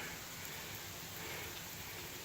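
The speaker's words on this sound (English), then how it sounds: "we got a nice summer rain coming down now" Light summer rain falling in a backyard, a faint steady hiss of drops with no distinct individual impacts and no voices.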